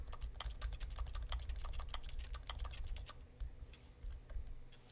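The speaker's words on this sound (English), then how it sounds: "I'm still convinced Stanley's just holding a keyboard throughout the whole entire game" Keys clack in a rapid, even stream of taps on a keyboard in The Stanley Parable video game, close and crisp, then thin out and fade near the end.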